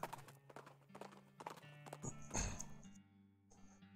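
Horse hooves clip-clop in the video game West of Loathing, a quick irregular run of hollow knocks up close, with musical tones and a brief swell of game sound underneath.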